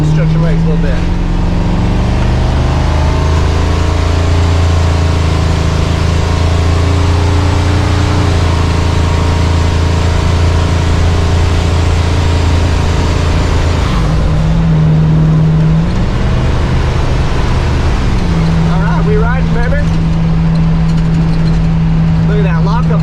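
A motorhome engine pulls uphill under steady throttle, a loud droning hum with shifting tones that rises and settles as the rig climbs, road and cabin noise around it, and a voice talking over it.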